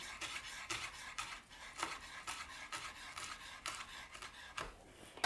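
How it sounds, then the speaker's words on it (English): A knife chops basil on a chopping board in a quick, uneven series of faint, crisp taps and scrapes, heard alone without talk. "And so I would just chop away like this."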